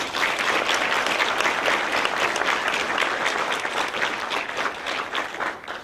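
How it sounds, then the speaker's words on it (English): A community college audience gives sustained applause for veterans at a county veteran program, a dense, even roar of clapping that holds steady and fades slightly near the end. "Let's give them a big round of applause"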